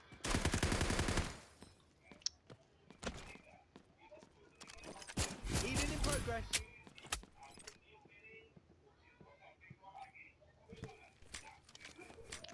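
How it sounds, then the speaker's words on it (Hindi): Shotgun blasts in the Delta Force Mobile shooter game, a few sharp booming shots mixed with a long burst of rapid gunfire and footstep sounds, heard under game noise without talk. "इसको मैं शॉटगन से ही निपटा देता हूँ"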